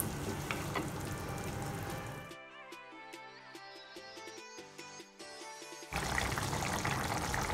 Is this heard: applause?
no